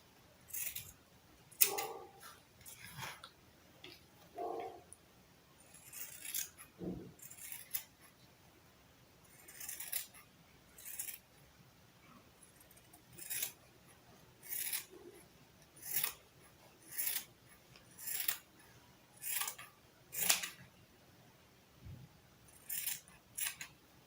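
Fabric doll pieces such as the legs are cut out with scissors, a run of about a dozen crisp, regularly spaced snips that begin irregular and settle into a steady rhythm, close and fairly quiet, with no talking.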